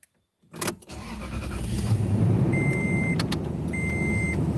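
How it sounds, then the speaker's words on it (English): A truck's engine starts in cold weather, a short cranking burst followed by a steady idle that settles into a continuous close rumble, with a faint high whine from the heater fan running. "He started the truck, turned the heater on."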